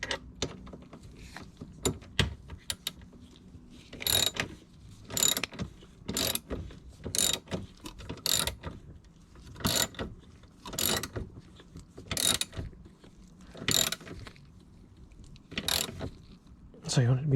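A hand ratchet tightening bolts on a car's rear subframe during a rear disc brake upgrade, sounding as close, rasping clicking bursts repeated in a steady rhythm about a dozen times.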